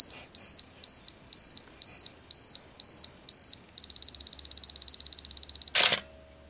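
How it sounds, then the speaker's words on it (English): Self-timer on a Canon AE-1 Program film camera counting down: slow evenly spaced electronic beeps speed up into a rapid run of pulses, ending with the sharp click of the shutter firing, close and clear. "And now here we're hearing the timer count down."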